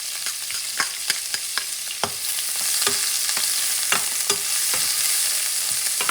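Onions hit a pan over medium heat for caramelizing, giving a bright steady sizzle that swells after a couple of seconds, punctuated by sharp scraping and stirring clicks from a utensil.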